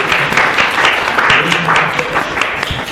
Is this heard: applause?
yes